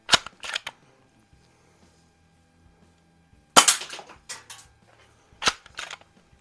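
A Crosman PSM45 BB pistol firing at a can: three sharp, close snaps spaced a few seconds apart, each followed by short metallic rattles and handling clicks, with quiet gaps between.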